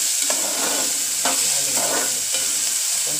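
Onion and tomato being stirred and sautéed in a pan for a tender cashew bhaji, with a steady sizzle of frying throughout and repeated spoon scrapes about once a second, close and fairly loud, no talking.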